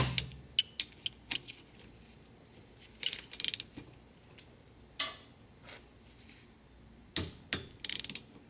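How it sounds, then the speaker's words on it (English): Torque wrench and ratchet on rear brake caliper bolts of a Hyundai Santa Fe, giving a series of sharp metallic clicks and ticks, some in quick clusters, moderately close with a quiet workshop background. "So we have torqued both caliper bolts"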